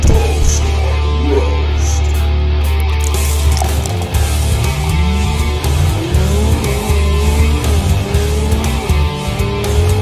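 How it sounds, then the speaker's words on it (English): Loud Porsche Mission R engine drone with high tire squeals rising and falling repeatedly over a constant low rumble. "I hear a squealing noise."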